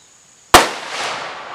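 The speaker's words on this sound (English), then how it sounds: "We are doing soda bottles versus 500 Magnum." A single .500 Magnum revolver shot fired outdoors at soda bottles cracks sharply out of near silence, followed by a long rolling echo and splash-like debris that fades slowly over the next second.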